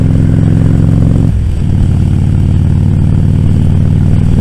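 Motorcycle engine running loud and close while being ridden along on a May day, a steady throbbing drone that drops in pitch partway through, then carries on evenly with no talk.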